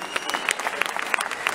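Audience at a live concert claps in a short, scattered burst of applause, fairly faint with sharp individual claps.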